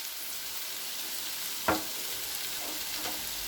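Vegetables stirred in a frying pan with black pepper, garam masala, salt and soy sauce, giving a steady soft sizzle with one sharp scrape of the utensil partway through.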